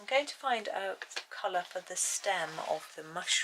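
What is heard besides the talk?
No distinct noise like a dog, phone or traffic.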